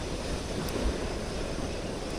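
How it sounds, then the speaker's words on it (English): Ocean waves wash steadily against a small fishing boat out at sea, a continuous broadband surf roar mixed with wind buffeting the microphone, no voices. "Look at them waves."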